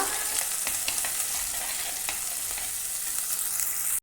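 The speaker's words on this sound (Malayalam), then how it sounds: "അരപ്പ് ചേർത്തതിന് ശേഷം ഒന്ന് ചെറുതായി ഒന്ന് മിക്സ് ചെയ്ത് കൊടുക്കുക." Ground curry paste for fish curry is stirred in a hot pan, giving a steady, close frying sizzle with light scraping of the spoon throughout.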